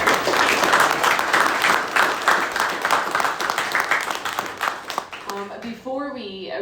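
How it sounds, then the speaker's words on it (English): Audience clapping at a book launch fireside chat, a dense burst of applause that fades toward the end before a voice begins speaking. "let's give a round of applause"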